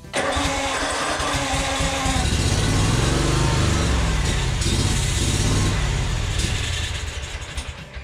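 Commercial Yazoo Kees zero turn mower engine with a suspected fuel or carburetor fault, running loud and close with a rough, uneven chug that steadies into a heavy drone before tapering off near the end.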